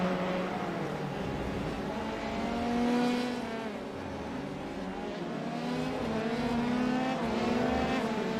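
Race cars at Circuit de Spa-Francorchamps, a steady loud engine roar with rising and falling whine as cars accelerate and pass, one swelling nearer midway, continuous throughout with no clear voices.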